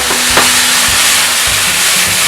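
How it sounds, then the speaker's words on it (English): Potatoes dumped into a hot pan for honey Dijon pork chops, a loud, dense, continuous sizzle and hiss right up close with a few soft clunks as they settle, no talking. "Dump the potatoes in your pan once you get it nice and hot"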